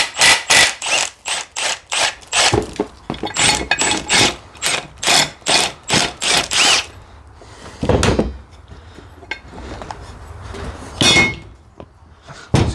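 An impact wrench rattles in rapid bursts loosening an old blade bolt on a John Deere X380 48-inch mower deck, loud repeated hammering runs, then pauses with scattered metallic knocks and clanks.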